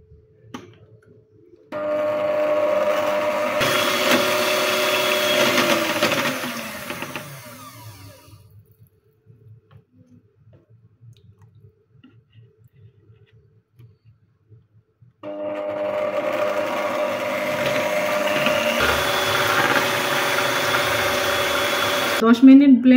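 A hand blender beats a grill sauce while oil is added bit by bit, giving two long, loud stretches of motor whine with a quiet gap between them.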